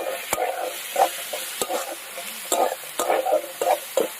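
Green peas with ginger, garlic and crushed green chilli are stir-fried over fried onion, a soft sizzle broken by sharp ladle clanks against the pan roughly every half second to second, close and clear.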